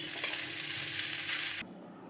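Mustard flowers fry in a pan alongside potatoes with a dense, close sizzle and stirring scrapes that stop abruptly near the end.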